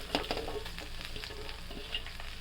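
Pieces of broad bean and bitter gourd fry in a pan with oil, giving a steady close sizzle broken by stirring scrapes.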